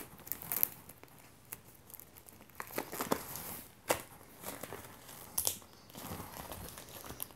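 Crinkly plastic wrapping on a book crackles and tears in bursts of handling, close up, with short sharp rips between quieter rustling.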